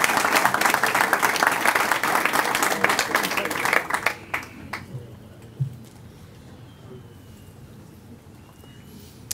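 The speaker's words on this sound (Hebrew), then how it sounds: "כפיים לבורא עולם" A congregation at a rabbi's inspirational lecture bursts into steady, loud clapping for about four seconds. It thins into a few scattered claps before the room falls quiet.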